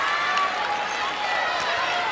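A volleyball crowd in a college arena, Wisconsin Badgers home fans at a regional semifinal against Hawaii, roars and applauds steadily in a dense, continuous wash of noise with a commentator talking over it.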